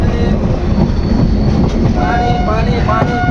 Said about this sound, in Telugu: ట్రైను కేవలం రైల్వే స్టేషన్ స్టార్టింగ్లో, ఎండింగ్లో మాత్రమే కొంచెం నిదానంగా వెళ్తుంది